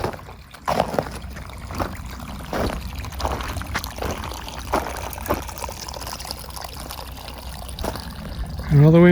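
Water from a solar-powered well pump gushes out of a rigid 1 1/4-inch hose into a pond in a steady splashing trickle outdoors, with someone talking over it.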